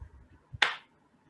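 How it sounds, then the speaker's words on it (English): A single sharp, bright clap of hands held in a butterfly shape snaps out once, close and crisp after a faint lead-in, then fades quickly into quiet. "we can have these butterfly claps, wherein we just go by doing, like something like this"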